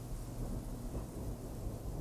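Low rolling thunder rumbles through a Wild West thunderstorm, with steady rain hissing over it, the whole 2 seconds a dense continuous roar with no speech.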